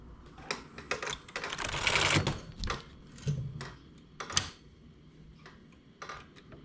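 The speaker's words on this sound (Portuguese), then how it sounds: "Só trouxe mais agulhas na máquina para trabalho." Knitting machine carriage working an English rib, giving close mechanical clacks and a longer sliding rattle, followed by scattered sharp clicks.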